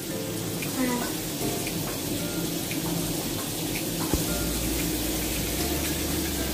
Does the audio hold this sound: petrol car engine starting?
no